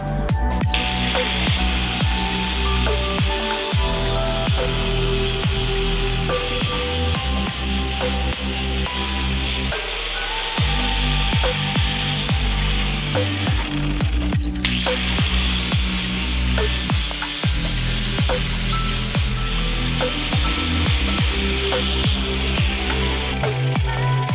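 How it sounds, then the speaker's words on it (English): Angle grinder fitted with a flap disc levelling bumps on a sturdy handle for a homemade riot shield, a loud, continuous rasping grind lasting the whole stretch, with brief dips in pressure and no talk. "Now I just gotta use the flap disc on my angle grinder and level out these bumps."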